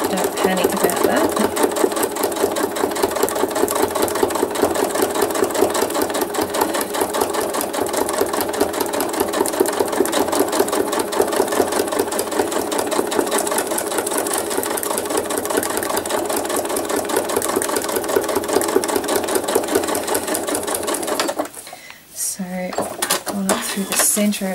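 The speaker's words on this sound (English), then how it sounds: "Making that popping noise, that's because I'm going over a lot of thread" A sewing machine stitching over thick layers of thread runs steadily at close range with a fast, even mechanical rattle and small pops, pausing briefly near the end before starting again.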